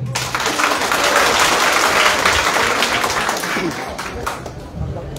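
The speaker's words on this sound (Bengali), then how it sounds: "একটা করতালি হবে" Audience at a Zaker Party council session in Bangladesh, gathered for a parliamentary candidate vote, breaks into loud sustained applause that swells, then tapers off with scattered claps and faint voices near the end.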